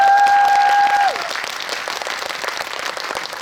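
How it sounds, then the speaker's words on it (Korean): Applause from a cinema audience at a Megabox COEX film talk for the movie Ordinary Person, a dense even patter of many hands that begins after a short steady tone cuts off and continues to the end. "여러분들 박수 한번 주십시오"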